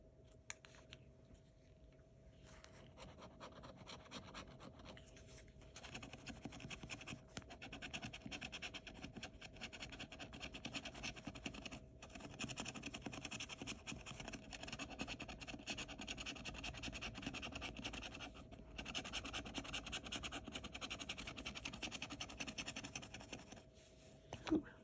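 Steady scratching of a 100X scratch-off lottery ticket, continuous rough rasping close up with short pauses between strokes, alone without talk.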